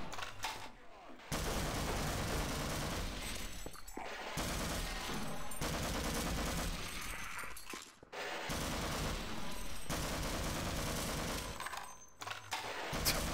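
Heavy, nearly continuous weapon fire in Half-Life: Source, dense and loud with only brief gaps, the barrage running across the whole stretch like rapid gunfire from turrets or an automatic gun.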